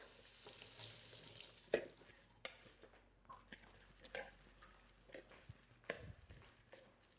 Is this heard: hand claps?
no